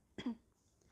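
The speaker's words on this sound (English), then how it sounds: "gonna clear my throat." A single short throat-clearing burst, close and fairly loud, followed by quiet.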